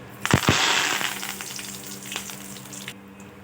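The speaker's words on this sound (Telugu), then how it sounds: "ఇలా ఆయిల్ వేడైన తర్వాత మనం శనగపప్పు ఉంది కదండి శనగపప్పును ఒక స్పూన్ వేసుకుందాం తర్వాత వచ్చేసి కరివేపాకు వేసుకుందాం" Chana dal and curry leaves hit hot oil with a sudden loud crackle and spatter, then settle into a steady sizzle that slowly fades over a few seconds, with no talking.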